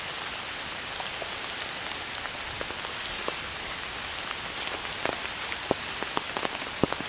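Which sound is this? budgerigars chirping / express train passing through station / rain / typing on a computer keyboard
rain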